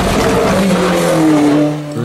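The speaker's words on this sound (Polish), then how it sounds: "piękny dźwięk silnika Cosworta" A Cosworth-powered rally car at a Polish pre-season rally event roars past close by, its engine note sweeping and shifting pitch in one loud, continuous burst with a hint of tyre noise.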